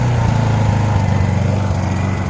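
Honda 2200 portable generator idling at low speed in eco mode after long storage, a loud steady engine drone with slight pulsing irregularity, close and continuous with no talk.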